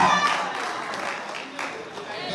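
An audience at a comedy show in the Lusaka Playhouse applauds in a steady, bright patter of clapping that fades slightly, with a voice talking over it.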